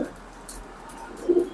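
Pakistani Teddy pigeons coo softly and close by, a few low, rounded coos rising briefly over a quiet background.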